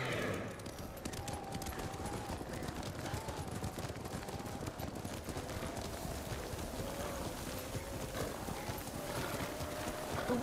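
Horse hooves clip-clop steadily through snow in the Ghost of Tsushima video game, a continuous rhythmic plodding with a faint whinny and a rushing wind-like bed underneath.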